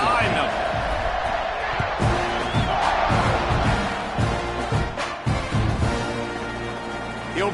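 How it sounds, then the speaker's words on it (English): Football stadium crowd at a Texas A&M vs Alabama game roaring steadily through a kickoff, a dense, loud wall of cheering with scattered whoops and thumps that holds for the whole stretch. "this crowd now ready to get behind them"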